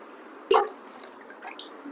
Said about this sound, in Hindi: मैं इसमें एक जग का यूज़ कर रहा हूँ। कभी भी एकदम से पानी ढंग से ना डालें